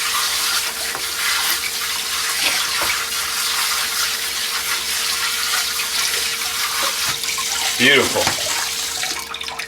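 Tap water runs steadily over microgreens being rinsed after harvest, a continuous close splashing flow; near the end a brief spoken word rises over it and the water briefly surges.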